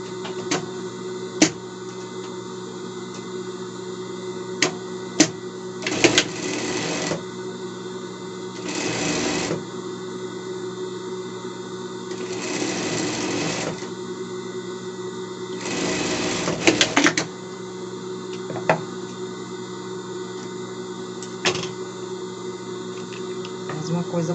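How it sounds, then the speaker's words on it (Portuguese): A sewing machine stitches tricoline cotton and lace fabric together, running in several bursts of rapid whirring separated by pauses with clicks and a steady background hum. "Um tricoline e um renda. E vamos costurar aqui."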